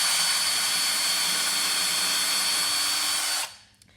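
Cordless power drill boring pilot holes for folding stool legs in a school woodwork shop: a loud, steady high-pitched whine held for about three and a half seconds, then stopping abruptly.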